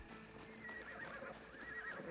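Horse neighing in the video game Assassin's Creed Shadows, a single whinny with a wavering, drawn-out pitch, heard alone at moderate volume with a soft game ambience underneath.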